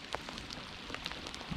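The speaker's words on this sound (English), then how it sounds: "This rain has literally stopped and started 3 times. More rain." Rain falls at a fishing pond, faint scattered drops tapping and pattering on surfaces in an irregular rhythm over a soft background hush.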